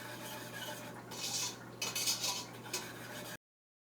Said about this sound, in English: sugar's all melted, so I'm going to stop whisking this